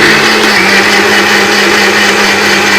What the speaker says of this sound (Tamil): இப்போ நம்ம விட்டு நைஸாக அரைக்க முடியும்